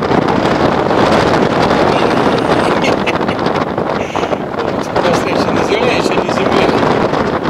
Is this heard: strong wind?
yes